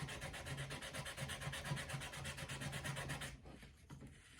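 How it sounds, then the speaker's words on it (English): Polishing compound rubbed back and forth into a leather strop for sharpening, a steady rhythmic scrubbing of close, even strokes that stops abruptly near the end, leaving quiet handling noise. "and rub that right into the leather"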